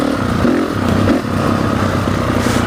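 Honda CRF 450 motorcycle ridden along a trail, its engine a steady, loud rumbling drone throughout with faint clatter, no voices.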